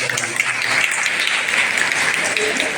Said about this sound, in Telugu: అధ్యక్షుడు గోపి గారికి చప్పట్లతో వారికి జ్ఞాపిస్తున్నాను